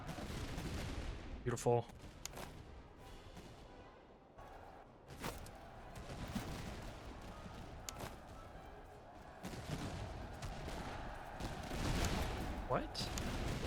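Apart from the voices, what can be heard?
army gunfire in the video game Master of Command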